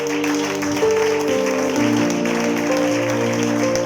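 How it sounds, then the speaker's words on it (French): A church congregation applauding and cheering during a Sunday worship service, a dense sustained clatter of clapping mixed with voices and held musical tones, steady and fairly loud throughout. "Est-ce qu'on peut acclamer le Seigneur ce matin?"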